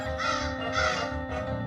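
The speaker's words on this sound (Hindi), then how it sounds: "यहाँ कौवे कैसे आए?" Several crows caw in a steady chorus of harsh, repeated calls, close and loud against an indoor setting, with no talk over them.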